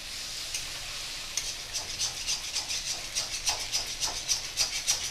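Spices being stirred and scraped around a kadai while taro stolons fry, a steady run of rhythmic scraping strokes over a soft sizzle, fairly quiet and close.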